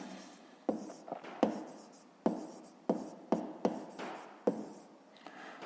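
Pen writing a math solution by hand on paper, with steady scratching strokes and a series of sharp taps as each mark begins, close and fairly quiet, continuing without pause.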